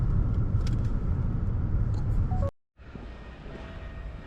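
Steady low road rumble and tyre noise inside a Hyundai Grandeur IG hybrid on the move, broken by a brief drop to silence before the smooth driving hum returns.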